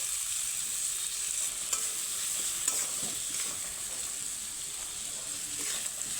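Turmeric and ground spices fry in a pan for a flat bean curry while being stirred: a continuous bright sizzle is overlaid by soft, repeated scraping strokes, steady and close.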